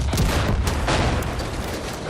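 Bombs dropped from a plane explode on enemies in the open-world shooter Far Cry 5, a loud, continuous roar of booming blasts and crackling gunfire filling the whole clip.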